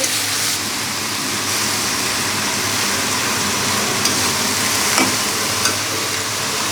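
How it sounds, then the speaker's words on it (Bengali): Onion and garlic paste fries in a spiced masala in a pan over a rooftop stove, giving a loud, dense, continuous sizzle with a few faint stirring clicks. "মশলা কষে উঠছে মশলার মধ্যে পেঁয়াজ রসুন বাটা দিয়ে দিচ্ছি"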